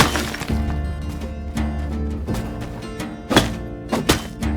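Pick hammer striking and breaking gravel in the farming life sim My Time at Sandrock, a series of sharp thunking impacts with brief cracking bursts over steady game music, no voices.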